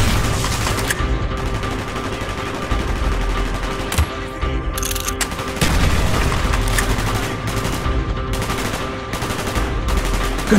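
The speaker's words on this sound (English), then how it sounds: "Gunfire's drawing attention." Sustained automatic gunfire and bursts of shots from a Call of Duty: Black Ops battle, loud and continuous with little or no talk over it.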